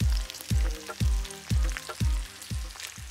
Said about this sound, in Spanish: Con su propia grasa se está cocinando, se está dorando.